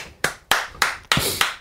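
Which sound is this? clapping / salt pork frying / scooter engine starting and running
clapping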